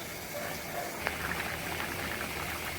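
Broad beans simmer in a pot of water with a constant bubbling hiss and a few light clinks, all steady and close.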